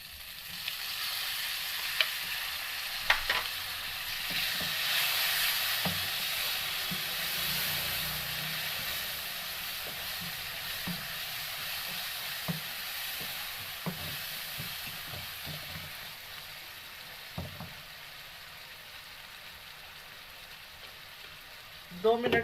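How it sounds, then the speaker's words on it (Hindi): Green chilies and two chopped medium tomatoes fry in ghee for mutton liver masala, a continuous close sizzle with scattered pops and light stirring clatter throughout, no speech. "हम घी में इसको फ्राई करेंगे।"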